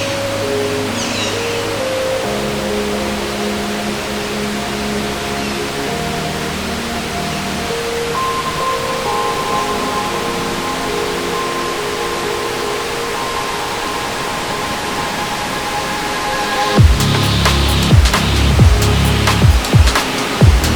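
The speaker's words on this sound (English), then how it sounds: "this waterfall is so beautiful" Banyu Wana waterfall in Bali gives a steady, loud broadband rush throughout, with a denser surge of splashing and crashing water near the end.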